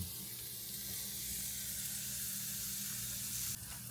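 Bacon and red onion sizzle in a pan for bacon, egg and cheese biscuits, a dense, constant hiss heard close and alone, with a brief change near the end.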